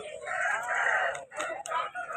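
A fighting rooster crows at a poultry market in Vijayawada, one long strained crow followed by a shorter broken call, loud and close.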